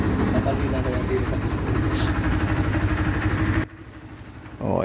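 A Barako 2 2025 model motorcycle engine running on its first start after a valve clearance adjustment, a steady close mechanical idle with a clattering tick that cuts out sharply near the end.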